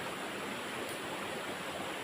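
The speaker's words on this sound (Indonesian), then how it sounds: "sungai yang begitu bersih ini di hulunya diapit oleh 2 gunung dan masih asli" A clean river flows through a Kalimantan jungle valley between two mountains, a steady broadband rush of water with no pauses, moderately loud and unbroken.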